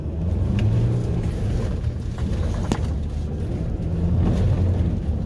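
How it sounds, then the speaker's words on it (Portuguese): A pickup truck takes a left curve on a dirt road in two-wheel drive, its engine and tyres producing a steady, close low rumble that continues without a break under faint road noise. "Vou fazer essa curva na esquerda. Vou fazer ela 4x2. Veja como é que a caminhonete vai sair de lado."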